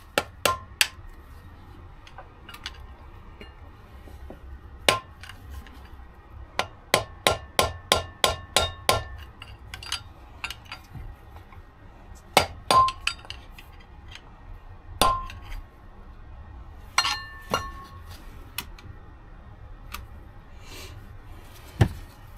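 Sharp metallic hammer strikes ring out while knocking out a Morris Marina front wheel bearing, some in quick bursts of several blows, others spaced apart, with quiet pauses between.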